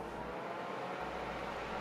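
SADES Osiris PC case fans ramped up to maximum speed with the case sides off, producing a loud, constant rushing whoosh heard alone for a couple of seconds.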